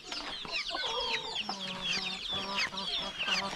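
Dense chorus of high, rapid chirping and peeping from many guinea fowl chicks, continuous and close, with faint clucking underneath.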